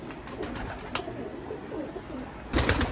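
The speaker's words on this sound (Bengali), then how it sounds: "হ্যাঁ, অনেক কবুতর আছে এখানে, কাসুরি, কামাগার, রামপুরি।" Pigeons coo softly in a breeder's loft holding Kasuri, Kamagar and Rampuri birds, low throaty calls repeating against a busy background, with sharp bursts of wing flutter or movement near the start and end.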